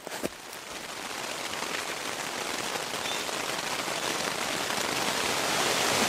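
Steady rain pours down on a wilderness lake in a dense, even hiss that swells slightly louder over a few seconds, with no voices.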